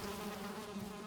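Swarm of poisonous bees buzzing in a video game, a close, steady insect drone filling the moment with no voices.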